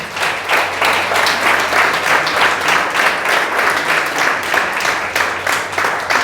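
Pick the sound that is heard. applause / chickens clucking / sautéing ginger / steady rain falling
applause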